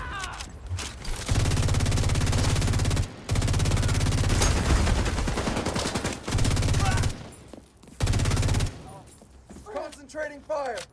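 Sustained automatic gunfire bursts in The Division 2, several loud dense volleys separated by short gaps, with voices speaking between and over the shooting.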